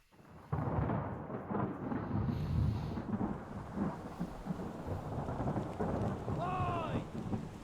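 Thunderstorm in the video game Return of the Obra Dinn: a heavy rumble of thunder rolls in after a quiet start, followed by steady rain and wind, with a brief tonal creak or call near the end.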